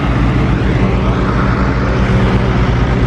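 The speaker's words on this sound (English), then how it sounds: "A couple of tractors are driving past." Vintage tractors, a Massey Ferguson, a Ford and a Fordson Super Major, drive past at a rally, their engines making a loud, steady, close diesel drone.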